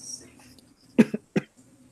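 Two or three quick, sharp coughs close by, the middle burst loudest, following a brief stretch of quiet murmuring.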